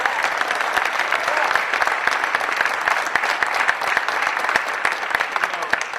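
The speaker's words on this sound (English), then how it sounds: "I wanted to give the women's team and Coach a round of applause" Sustained applause from a crowd at a press event introducing a new ETSU basketball coach, dense steady clapping at an even level for the whole stretch.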